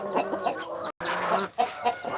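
A young rooster clucks and calls close by, a run of short throaty bursts with a brief dropout partway through and no talking.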